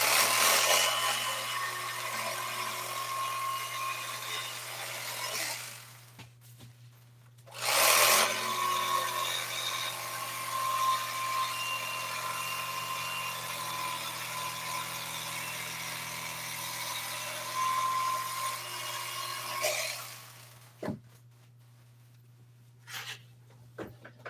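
An electric bread knife cuts around old Toyota seat foam, giving a close, steady buzzing hum with brief pauses and restarts.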